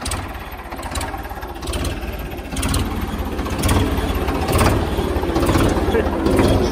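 A modified Ford 3600 tractor engine idles steadily with a low, even diesel rumble that grows slightly louder partway through, while someone talks nearby.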